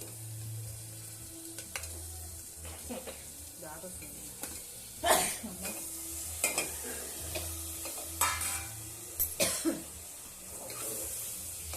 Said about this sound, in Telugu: ఇప్పుడు కలుపుతున్నాము.